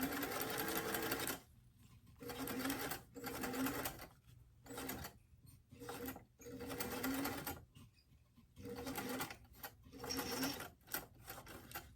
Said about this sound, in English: go ahead and sew across the entire top of the bust edge of the dress